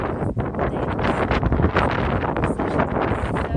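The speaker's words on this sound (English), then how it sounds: "it's getting a little bit more windy now when I'm talking about it" Strong wind blowing outdoors buffets the microphone with a loud, continuous roar and gusty rumble that rises and falls throughout, with no voices heard.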